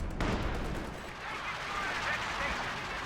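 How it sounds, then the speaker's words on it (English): A creeping artillery barrage in Company of Heroes 2 rumbles as a continuous wash of distant booms and crackling gunfire, with a sharper blast near the start, over the low hum of battle. "Creeping barrage this time."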